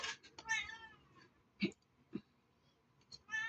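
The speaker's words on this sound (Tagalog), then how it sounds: "Hindi makapag-antay itong pusa namin." A pet cat waiting indoors at a quiet family home meows several times, with short harmonic cries near the start and the end and a few soft thumps between them.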